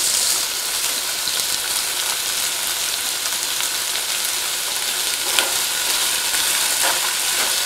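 Onion, tomato, carrot and ginger garlic paste sizzle and crackle steadily in hot oil in a pan for a vegetable pulao, with faint stirring scrapes over the constant frying hiss.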